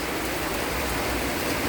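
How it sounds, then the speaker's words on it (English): Heavy rain pours down steadily during a storm with strong winds at a mobile home, a dense, unbroken hiss that holds at a constant loudness throughout, with no voices. "Look at that rain. It is coming down."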